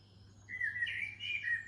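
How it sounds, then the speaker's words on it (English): Small garden birds chirp and tweet in quick, bright calls over a quiet low hum, fairly close and clear. "Other birds you might hear in the background include rooks, pigeons and doves, plus numerous kinds of small garden birds."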